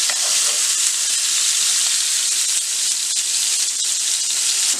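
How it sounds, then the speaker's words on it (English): Steak sears loudly in a skillet alongside sautéed mushrooms and onions, a steady dense sizzle and frying crackle that holds unbroken for the whole stretch, close and alone with no voices. "I'm going to sear it on this side as well"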